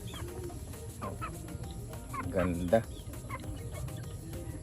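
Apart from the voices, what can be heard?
hen clucking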